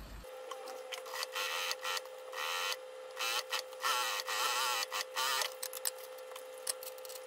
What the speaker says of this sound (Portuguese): Vou fazer uma costurinha aqui, ó, de pesponto, bem na bordinha.